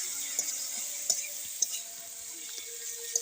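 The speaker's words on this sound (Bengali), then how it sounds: "একবারে নাইড়ে চেড়ে ভালো করে মশলাটা কষাই নিলাম, কাঁচা লঙ্কাটা" Green chili spice paste frying in oil with vegetables while being stirred, a steady soft sizzle broken by light scraping taps of the utensil against the pan, close and alone with no talk.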